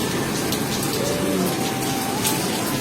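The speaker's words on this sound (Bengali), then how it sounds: "বৃষ্টি পড়ছে এই বর্ষাকালে এলে এক ঝামেলা" Monsoon rain falling steadily near a coastal temple town, a dense, loud, even hiss of drops with no let-up throughout.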